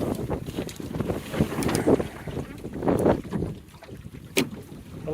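Steady wind roars across the microphone around a John Welsford Navigator sailboat on choppy water just outside a pier, a continuous loud rushing with gusty swells and some hull and water noise underneath.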